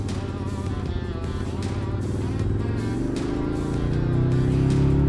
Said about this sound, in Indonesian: Mesin 2 silinder ini pun memiliki suara raungan yang sangat berwibawa